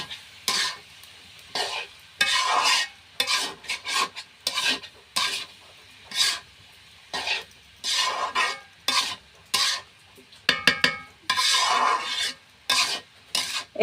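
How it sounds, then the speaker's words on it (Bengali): Fried vegetable stalks mixed with scrambled egg are stirred in a pan, giving loud, rhythmic scraping strokes in short bursts with a light sizzle between them and no voices. "ভাজিটার সঙ্গে আমি এই ডিমের ভুজিয়া দিয়ে মিশিয়ে নেব"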